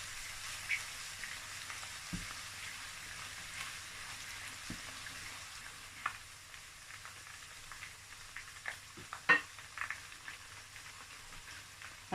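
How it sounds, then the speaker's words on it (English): Onions frying in a pot for a homemade stew, a soft steady sizzle with occasional clinks and scrapes of stirring, fairly quiet with no talking. "So I'm going to add my onions."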